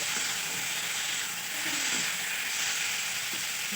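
Water added to a pan of spiced fish curry with cauliflower and potato gives a steady, close hissing sizzle that continues without a break.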